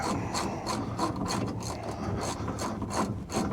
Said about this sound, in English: add our nut, and then tighten this side up real quick